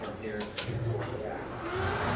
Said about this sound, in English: That's that humming noise you hear in the background.